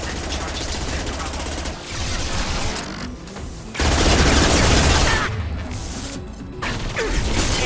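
Sustained video-game gunfire in a quarry combat scene, dense loud bursts of rapid automatic shots with heavy booms and mechanical clatter, pausing briefly before resuming at full intensity.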